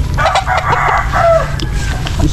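Chickens cluck close by and a rooster crows at a backyard chicken house, the calls loud and overlapping over steady background noise.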